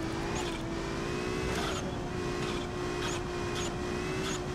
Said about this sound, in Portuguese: O carro fica patinando.